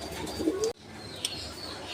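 German Beauty Homer pigeons in blue bar colouring coo softly at close range in a brief burst, with a faint rustle and chirp afterward.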